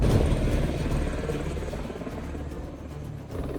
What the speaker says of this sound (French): il y a un hélico qui va bientôt se poser